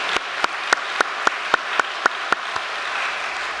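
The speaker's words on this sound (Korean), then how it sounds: "우리 감사의 박수를 하늘 부모님과 천지 참 부모님께 올려드리지" A church congregation gives a round of thanks with sparse, evenly spaced claps, about nine sharp strikes standing out over a soft, hushed room tone.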